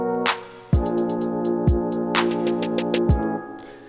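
A jazz trap beat made in FL Studio 12 plays: deep booming kicks and claps with rapid snare triplets rising after the clap, crisp hi-hats cutting in and out over a sustained harmonic pad, loud and alone.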